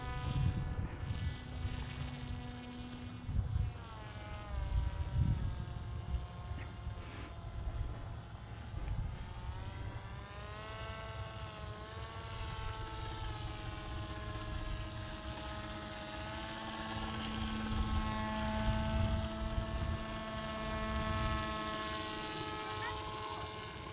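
A Magnus effect R/C trike flying at full throttle, its electric motor and propeller giving a steady whining drone that rises and falls in pitch as it passes overhead, heard from the ground at moderate distance.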